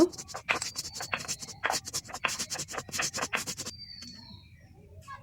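Cumin and chilli are ground by hand into a paste, giving a rapid series of rough scraping and rubbing strokes, close and fairly quiet, ending in a short, softer tail.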